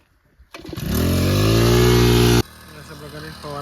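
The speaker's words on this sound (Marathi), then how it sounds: "पंप चालू करत आहे." A petrol crop sprayer pump engine on a farm field with wheat fires up after a couple of quiet knocks, then runs at a loud, steady buzzing drone for about two seconds before dropping away abruptly. Voices talk nearby.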